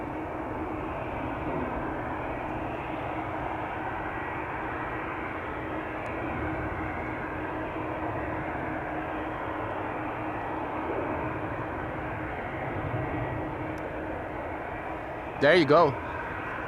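A Lufthansa Airbus A340 jet in new livery at Schiphol Airport gives a steady broad roar that holds evenly throughout, with a short voice near the end.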